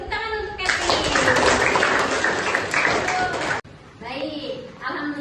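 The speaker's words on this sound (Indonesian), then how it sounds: "Tepuk tangan untuk Catherine." Classroom applause from schoolchildren for a student named Catherine, a dense burst of clapping lasting about three seconds, then a short break and scattered children's voices.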